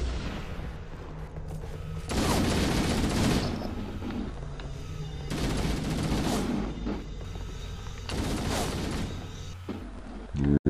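Repeated bursts of gunfire in Halo: The Master Chief Collection, three loud rattling volleys separated by short lulls with game noise between them.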